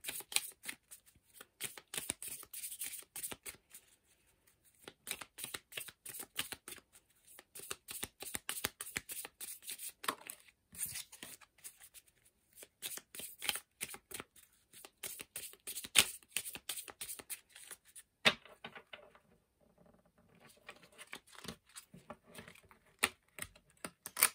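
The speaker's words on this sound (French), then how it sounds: "Je mélange mes cartes." Brand-new, stiff tarot cards being shuffled by hand, quick dry riffling clicks in bursts with short pauses, close and quiet, no talking.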